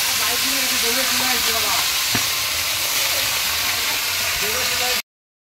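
Red spinach hits hot oil already spitting with mustard seeds and green chillies, giving a loud, steady sizzle and hiss throughout before cutting to silence at the end.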